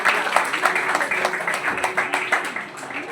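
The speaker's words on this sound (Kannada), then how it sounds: "ದೇವ್ರಿಗೆ ಚಪ್ಪಾಳೆ ತಟ್ಟುವ." A church congregation at an anniversary service claps together, a dense, steady patter of many hands that fills the room evenly and holds at a moderate level throughout.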